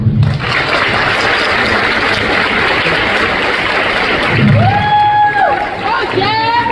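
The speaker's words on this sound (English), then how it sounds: "Please give them applause" At an eighth-grade graduation ceremony, a crowd's loud, sustained applause and cheering fills the room, mixed with murmuring voices and a few whistles near the end.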